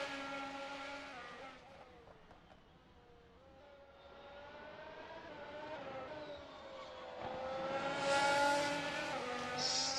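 Race car on a lap of Interlagos in a sim racing game, its engine a high revving whine that dips and then climbs through rising pitch sweeps, fairly faint and continuous.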